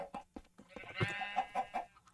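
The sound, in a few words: sheep bleating in a Minecraft skyblock video game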